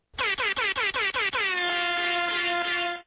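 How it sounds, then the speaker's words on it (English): Air horn sound effect: a rapid series of about six short loud blasts followed by one long sustained blare that cuts off abruptly, close and dominant. "I turned the air horns down a little bit."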